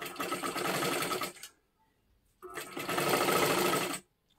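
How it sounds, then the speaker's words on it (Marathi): A sewing machine runs double stitching on fabric in two steady whirring bursts of about a second and a half each, loud and close, separated by a short pause. "आता इथून आपल्याला परत एकदा डबल शिलाई मारून घ्यायची आहे."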